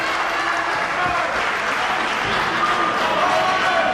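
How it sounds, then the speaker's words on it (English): A wrestling crowd claps in a dense, sustained wash of applause while a commentator's voice talks over it. "these fans applauding the fact that they're still standing, they're still fighting"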